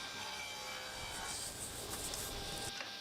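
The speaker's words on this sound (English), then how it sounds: "just cutting the miters now on my table saw" A table saw cutting miters in wood, Senna and Jarrah, for a document box, heard as a continuous close whirring and rasping hiss that holds steady across the clip with small swells in intensity.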